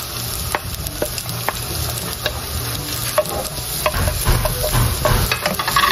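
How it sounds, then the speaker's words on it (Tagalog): Ginger, garlic and chili sautéed in a pan for spicy pork intestine adobo, a steady close sizzle with the repeated scrape and clink of stirring. "Ako pa ay magigisa na po ng ating mga ricado."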